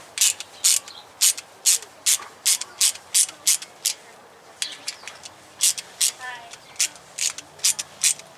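A flimsy wrench ratchets on a 7mm nut during fruit picker assembly, with sharp, evenly spaced clicks repeating about twice a second, close up, with a brief voice in the middle.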